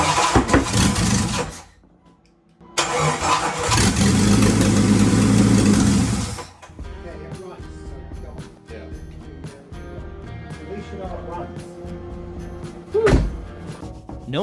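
A car with a newly swapped engine cranks and fires up, roaring loudly for a couple of seconds before settling into a steady, lower idle with a brief rev near the end.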